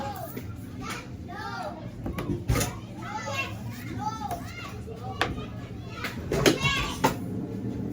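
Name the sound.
children playing noisily in front of a shop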